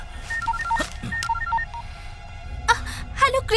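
A telephone number is dialed, with a run of short DTMF keypad tones in an even rhythm, a brief pause, then a few more tone bursts near the end, close and clear over faint room noise.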